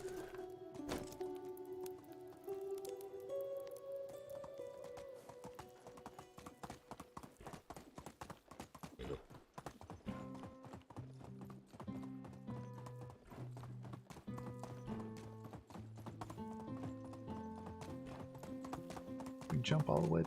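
Horse hooves clip-clop steadily while riding in the Medieval Dynasty video game, a close, continuous trotting rhythm under game music with a brief whinny, as someone talks over it.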